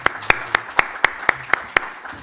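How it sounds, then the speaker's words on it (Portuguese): Sharp, evenly spaced claps, about nine in quick steady rhythm, ring out clearly at an annual education and training conference, sounding more like a few hands than a full crowd. "Eu dou uma salva de palmas para os"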